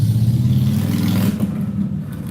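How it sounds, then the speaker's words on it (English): A motorcycle rides by loudly at night, its engine a heavy, throbbing low roar close by that holds steady, then fades and thins out as it passes into the distance. "There should be like a law that after a certain hour in the night, you cannot ride around on a motorcycle."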